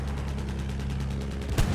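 A bomber plane's guns firing in the video game Battlefield 1: rapid, dense gunfire rattling continuously with a sharper burst near the end.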